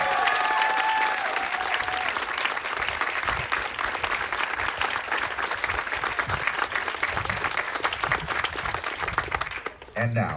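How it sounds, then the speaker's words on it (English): Sustained applause from a large audience at a family medicine residency graduation ceremony, dense steady clapping for about ten seconds before it fades out. "please give a big round of applause"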